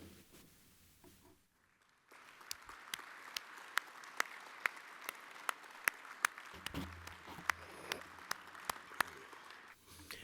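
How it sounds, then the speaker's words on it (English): Audience applause greets committee members standing at the AEA 2025 convention address, steady clapping rising after a quiet start and continuing at moderate volume for about eight seconds, with scattered sharper claps standing out from the crowd. "please stand and let us recognize you with a round of applause"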